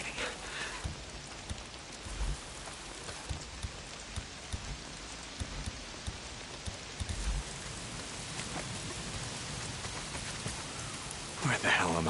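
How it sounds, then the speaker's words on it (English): Rain falls steadily in the video game Days Gone, a constant hissing patter of drops with occasional louder spatters and a low rumble. A brief burst of noise comes near the end. "it's the goddamn rain"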